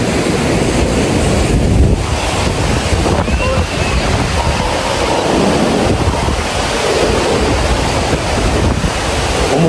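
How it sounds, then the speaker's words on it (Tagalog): Strong ocean waves roll and crash continuously on Boracay beach, a loud close wash of surf heavily mixed with wind buffeting the microphone, steady and dense throughout with no clear pauses. "medyo malakas yung alon doon"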